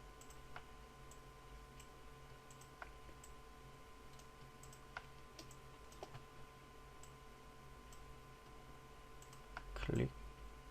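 Computer mouse clicks while modeling a mug in 3ds Max, sparse faint sharp ticks spaced a second or so apart over a quiet room hum, with one louder thump near the end.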